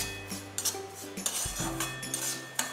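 Semolina (rava) roasting on a slow flame for Raghavdas ladoo, stirred with a spoon in a pan, giving a few soft scraping clinks and light metallic taps in a steady, close, quiet rhythm with a low hum beneath.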